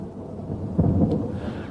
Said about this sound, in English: I hear thunder, I hear thunder.